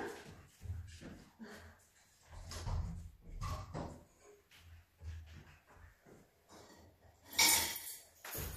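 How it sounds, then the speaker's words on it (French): A dog at a door during a home morning yoga session, with shuffling, faint whimpers and a door sliding open as the dog is let in, and a few soft sounds of movement nearby. "Je vais juste ouvrir la porte au chien."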